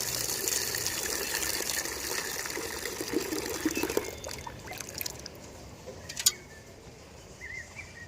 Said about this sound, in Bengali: একটা বালতি জল নিয়ে গিয়ে সবার গোড়ায় এক মগ করে দিয়ে দিলেই কিন্তু হয়ে যায়।